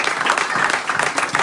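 A church congregation applauding during a service, dense, lively clapping throughout the short stretch, loud and close.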